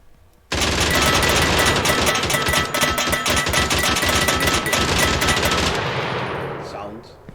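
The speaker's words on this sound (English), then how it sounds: "There we have another turret that is spawning the projectile up" A turret in a Contra-style 2D sidescroller video game fires a sustained, loud machine-gun-like stream of projectiles, starting abruptly, hammering steadily for about five seconds, then cutting off with a fading tail.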